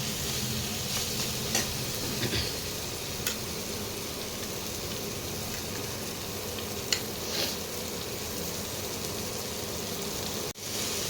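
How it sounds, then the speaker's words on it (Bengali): Kashmiri chili powder fries in hot oil with a steady, close sizzle like light rain, stirred now and then with a few soft scrapes and clicks, and no talk. "আমি এখন কাশ্মীরি লঙ্কার গুঁড়োটা দিলাম। একটু ভেজে নিই"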